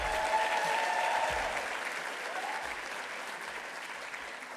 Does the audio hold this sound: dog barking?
no